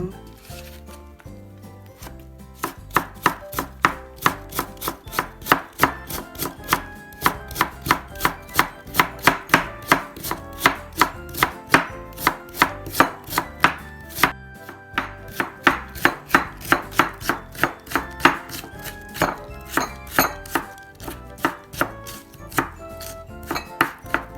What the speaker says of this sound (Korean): 요만큼을 썰었습니다.